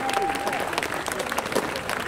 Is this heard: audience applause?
yes